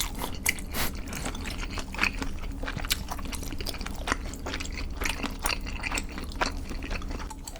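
Someone eats spicy cheese tteokbokki with sausage, giving close, continuous wet chewing and soft biting sounds with small squishes throughout.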